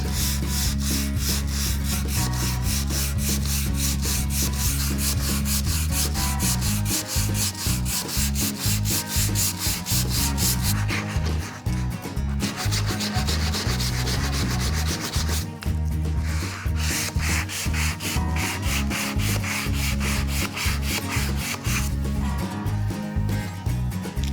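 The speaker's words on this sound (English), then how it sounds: "start to sand" Steady, continuous sanding of a spalted beech wood vase with hook-and-loop backed sandpaper on scrap wood, an unbroken loud rubbing and scratching close up with no talk.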